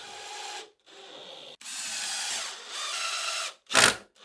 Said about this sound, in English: I can get it tipped over and drive in some 2-inch screws